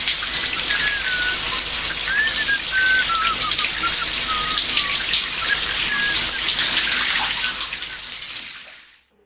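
A shower runs in a steady, loud hiss of falling water with faint tonal squeaks through it, then fades out abruptly at the end, played as a recording in a listening exercise.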